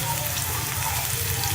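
Garlic frying in hot ghee with mustard seeds for a masoor dal tadka, a steady crackling sizzle held at even loudness from start to finish.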